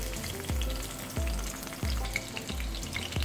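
Garlic, green chilies and curry leaves fry in hot oil for a tamarind-leaf pachadi, giving a continuous sizzle broken by regular dull knocks of a spoon against the pan roughly every half second.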